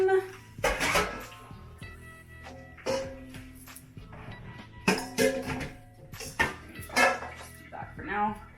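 A bowl clinks and clatters among pots and utensils in a home kitchen while vegan soup is prepared, with several distinct knocks spread over the moment and a person talking throughout.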